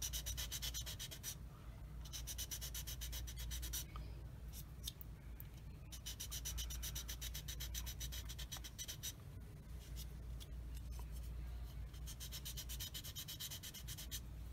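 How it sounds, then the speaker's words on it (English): Soft, rapid scratchy rubbing repeats in quick back-and-forth strokes as a 400-grit sanding stick removes a seam on a plastic 1/35 tank model part, close and quiet. "So using my 400 grit sanding stick, I'm just gonna sand that seam off of there like thusly."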